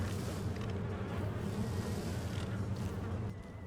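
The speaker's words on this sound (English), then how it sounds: "Something is in here that's getting attacked by the bees" A dense, steady swarm of buzzing bees in The Isle video game, loud and continuous with a low droning hum that holds throughout and dips slightly at the end.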